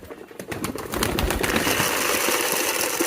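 Pigeons around a rooftop loft as a bird is fed and released, with cooing and bird sounds over a loud, steady outdoor wash of noise and some rustling.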